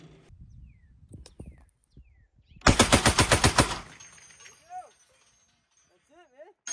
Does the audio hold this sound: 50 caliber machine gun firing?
yes